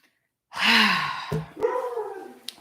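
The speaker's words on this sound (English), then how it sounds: "My dog is helping me clear." A dog gives a single drawn-out bark or yelp close by, followed by a softer whining tail and a small click.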